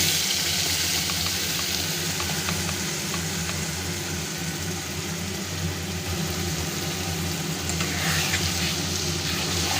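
Poppy seed spice paste for a hilsa fish posto dish goes into hot oil and fries with a steady, close, even sizzle and no talking.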